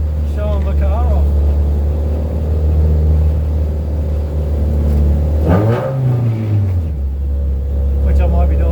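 A Mercedes Sprinter van engine is held at a loud, steady drone in a car park to warm the gearbox and diff, then revs up briefly and settles back to a deep idle, with faint voices in the background.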